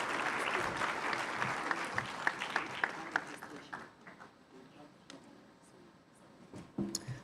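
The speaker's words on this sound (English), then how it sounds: "another round of applause for Her Excellency Minister Ayanda Ndlodlo" An awards ceremony audience claps for a minister, the applause strong at first with sharp individual claps, then tapering into sparse claps and murmur, with a voice over it.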